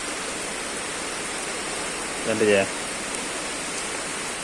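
Strong wind and heavy rain in a storm make a continuous hiss-like roar, with someone briefly speaking over it partway through.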